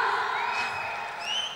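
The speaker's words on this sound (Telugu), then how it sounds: "ఒకసారి గట్టిగా చప్పట్లు కొట్టండి అమ్మా" A large audience at the KGF movie pre-release event cheers and whoops loudly and steadily, a dense crowd roar with shrill whistle-like cries rising near the end.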